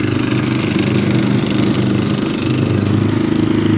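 A walk-behind tractor's engine, a motoblock on a snowy hill, chugs steadily near and loud with a throbbing low idle and slight throttle rise, running alone without talk.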